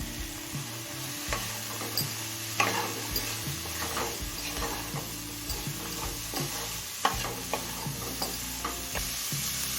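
Onion and chopped capsicum frying in a pan for oats pulao, a steady close sizzle with frequent scraping stirs and light clinks of the spatula against the pot throughout.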